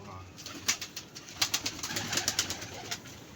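Pigeons coo softly in a loft at dusk, a series of short muffled pulses repeating irregularly at moderate distance over a quiet background.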